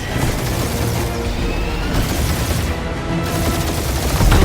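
Dense, continuous gunfire and blasts in the video game Guardians of the Galaxy, loud and unbroken throughout the short stretch.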